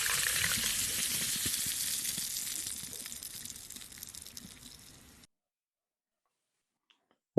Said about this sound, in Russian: Все это доливаем. 120 мл кока-колы.